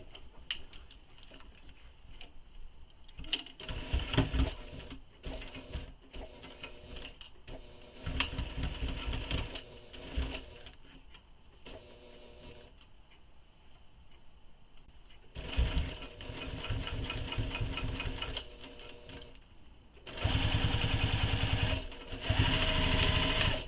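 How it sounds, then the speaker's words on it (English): Sewing machine basting the sides of a waist pack, running in several rapid stitching bursts separated by short pauses, close and loud, with no talk. "So now we're going to sew these both in place, or baste them both in place, sorry, on the sides."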